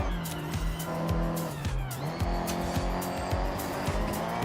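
Race cars in the video game Gran Turismo roar with rising and falling engine tones and brief tire squeals, played loudly and continuously.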